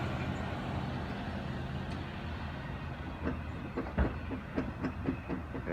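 A train rolls past at Mt Airy, Georgia, a low steady rumble at moderate distance with a run of rhythmic wheel clacks over the rail joints toward the end.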